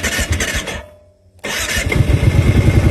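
A Kawasaki Brute Force 750 ATV under repair cranks, drops into a brief near-silent gap, then fires up and settles into a loud, close, rumbling idle.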